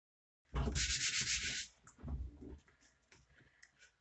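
Rough, steady sanding strokes rasp for about a second on painted wood of an easel, close up, followed by quieter scraping, rubbing and handling noises on wood.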